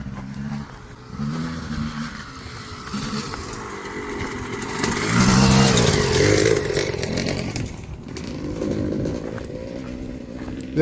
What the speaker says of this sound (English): it looks like we've got someone driving up this road